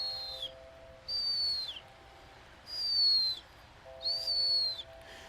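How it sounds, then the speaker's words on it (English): Herring gull chicks call in the open, four thin high seeping whistles, each about half a second long and slightly falling in pitch, spaced apart over a quiet background hiss. "I can hear all the herring gulls, the chicks, they're calling away."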